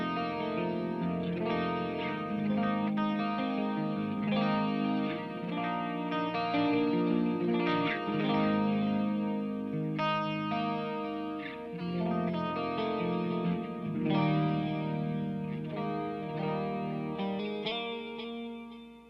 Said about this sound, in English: I'm going to turn on my Julia chorus and my Flashback 2 delay pedal and see how it sounds all gussied up.